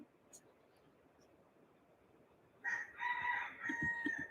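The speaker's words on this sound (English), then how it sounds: "These chickens." A rooster crowing among chickens, a loud drawn-out cock-a-doodle-doo breaking in after a quiet stretch, with clucking around it.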